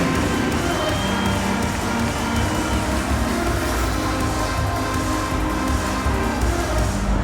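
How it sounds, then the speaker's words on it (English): An NBA 2K24 arena crowd at a Cleveland Cavaliers versus Los Angeles Clippers game gives a steady, broad roar of cheering and applause that holds at a constant level throughout, with no clear individual voices. "Fans, please give a big round of applause for your Clippers University."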